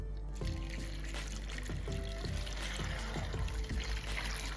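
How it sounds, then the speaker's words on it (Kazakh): Water is poured over quartered apples in a pot for jam, a close steady splashing pour with bubbling gurgles running throughout, no talk. "Мен 800 грамм мөлшерінде су құйдым осы алмаға"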